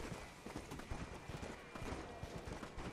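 Rapid hoof clopping from a horse in motion in the video game Red Dead Redemption: Undead Nightmare, steady and fairly close, set against a dense wash of background noise.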